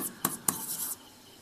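Quiet writing on a board while a math problem is solved: a few short scratchy strokes over about a second, then stillness, with no voices.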